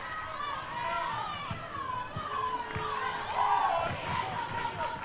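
A crowd at a college softball game between Oklahoma and Missouri makes a steady, moderate murmur with some scattered shouts, heard under a commentator's speech.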